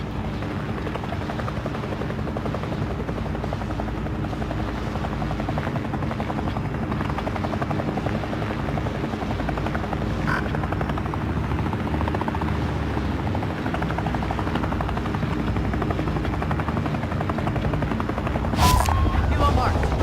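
A helicopter in the video game Call of Duty Warzone thrums steadily and loudly throughout, with faint gunfire and game effects mixed in and a sharp burst near the end.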